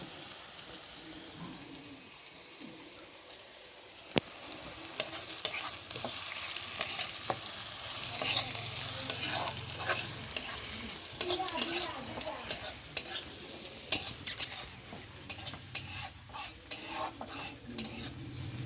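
Pitha cakes fry in a pan with a continuous soft sizzle and spatter, punctuated by sharp clicks and clatters of a utensil against the pan.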